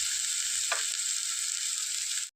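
Tomato and onion frying in a pan for a Kerala-style fish roast, a loud bright continuous sizzle with a brief scrape of stirring, then cut off abruptly.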